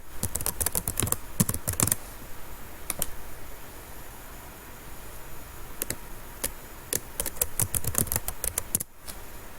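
A username and password are typed on a computer keyboard in quick bursts of crisp key clicks, with short pauses between runs, close and clear against a quiet room.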